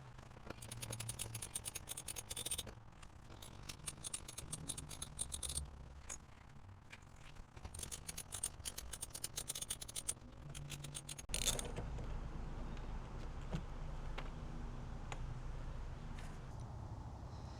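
An 8mm socket on a ratchet loosens the front bumper bolts of a Fisker Ocean, with bursts of rapid ratcheting clicks and mechanical creaks, heard close up with brief pauses between them.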